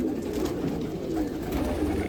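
Unnavi Khaira pigeon, a rare Indian breed, cooing in a continuous low throaty murmur, close and steady, with no talking over it.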